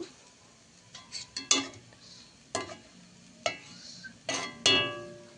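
Metal spatula scrapes and clanks against a pan while stirring chow mein over heat, in a series of sharp irregular strikes with faint sizzling between them and no talk.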